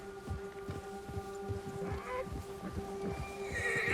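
A horse in the snowy Red Dead Redemption 2 game world gives a close whinny over steady clip-clop hoofbeats, with a tonal hum beneath and no one talking.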